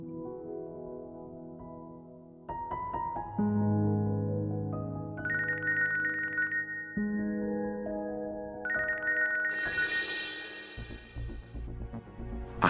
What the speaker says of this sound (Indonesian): Akhirnya Rio telepon.